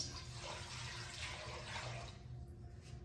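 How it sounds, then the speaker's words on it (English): A steady rush of water pours into a pan while preparing pickle brine, a soft continuous splash that thins out near the end, faint and close with no voices. "The next thing that you're going to add is 1 quart of water into your pan."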